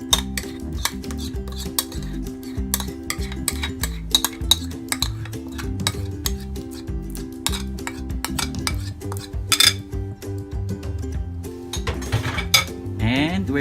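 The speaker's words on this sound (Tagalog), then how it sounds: "we're going to mix using our spatula" Cream cheese being mixed with a spatula in a bowl, heard as steady, close scraping and clinking strokes that repeat continuously, with a low hum underneath.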